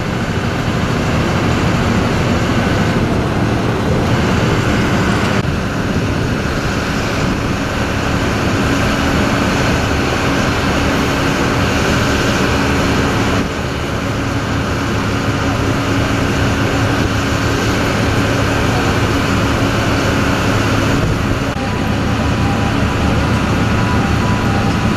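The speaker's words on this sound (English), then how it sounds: "these are the internal transfer vehicles" Port internal transfer vehicles haul containers from quay to yard at a container terminal, a steady, loud broadband engine and road rumble running continuously throughout, with no clear breaks.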